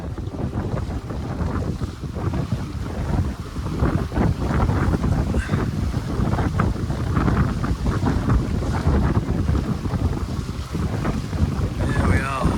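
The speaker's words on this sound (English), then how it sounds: "There come the gusts." Wind gusts buffet a reefed sailing yacht off the coast of Britain between Tobermory and Oban, producing loud, continuous roaring wind noise on the microphone with water rushing along the hull, rising and falling as the gusts come and go.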